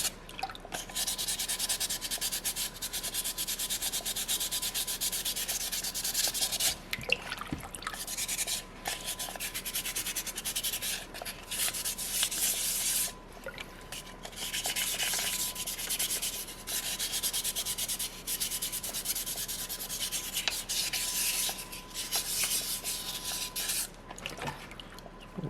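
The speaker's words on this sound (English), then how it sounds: "It's going to really fold my sandpaper up so we can tuck it into those hard to reach areas." Sandpaper rubs across a soapstone seal carving in close, continuous scratchy strokes, with a few brief pauses between passes and no talking.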